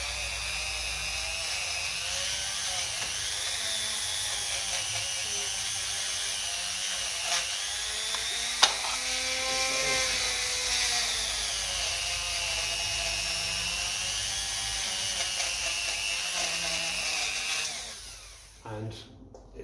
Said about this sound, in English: I give underneath there a clean with the Dremel